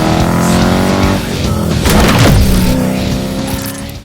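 A supercharged 2005 Ford Saleen Mustang with a 4.6 engine and a 5-speed manual roars loudly on a test drive, the engine note climbing and dropping with the shifts and a brief tire squeal, heard from close by.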